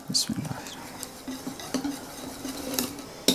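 A spoon mixes cocoa powder into cake batter for a chocolate Swiss roll, making intermittent light clinks and scrapes against the bowl at moderate loudness, with a sharper knock at the very end.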